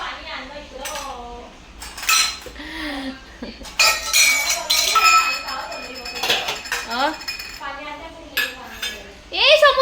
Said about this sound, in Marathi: भांडी भांडे लावत आहे कारण भांडी घासायचे आहे